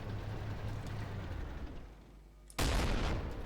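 A gun firing from an M109 self-propelled artillery vehicle in the tank game Armored Warfare: a rumbling engine backdrop quiets, then one sudden loud blast hits and its roar carries on to the end.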